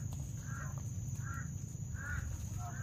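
A crow caws four times at a distance, spaced about a second apart, over a steady low outdoor rumble.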